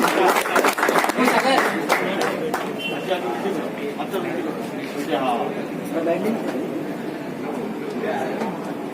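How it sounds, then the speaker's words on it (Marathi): Applause from a crowd at a draw party and jersey launch for an underarm plastic ball cricket tournament, sharp claps at first and then loose clapping mixed with chatter and someone talking. "टाळ्या कमी करू देऊ नका."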